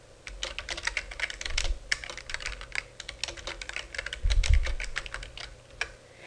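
Steady typing on a computer keyboard as a campaign name is entered for an email blast, with rapid close key clicks and a few heavier thumps, no voices.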